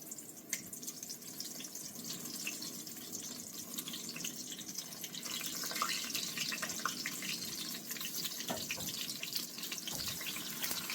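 Eggplants slid slowly into hot oil set off a steady, dense sizzle that fills the whole stretch without letting up, with no voices over it.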